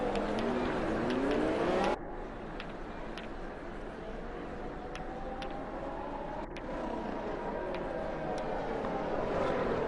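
Race cars on a formation lap in an F1 racing video game at the Netherlands round, a steady droning engine roar with rising and falling pitch sweeps and a sharp cut, continuous and fairly loud throughout.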